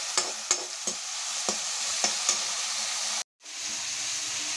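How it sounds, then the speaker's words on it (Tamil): Tomatoes, curry leaves and garlic frying in a pan, a steady close sizzle punctuated by a series of sharp spatula scrapes and taps against the metal as they are stirred, then a brief silent gap before the sizzling resumes; no talking. "அப்படியே கொஞ்சம் கிளறி விடுவோமா. கொஞ்சம் வேகட்டும்."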